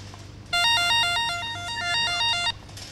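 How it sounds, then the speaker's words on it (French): A telephone rings at a busy wholesale market during the holiday season. An electronic warble repeats in fast bursts for about two seconds, loud and close over a low background hum. "Toutes les deux minutes, le téléphone."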